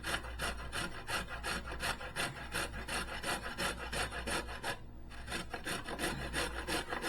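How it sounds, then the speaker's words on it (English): Carrots grated by hand on a grater into a bowl, a steady rhythmic rasping of quick strokes that continues throughout with a brief pause near the end, close and alone. "Grate your 3 carrots."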